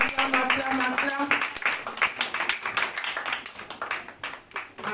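A church congregation clapping rhythmically during a worship service, steady fast handclaps close and loud, mixed with voices singing and calling out.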